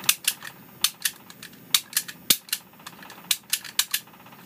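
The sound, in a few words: lock pins clicking as lock is picked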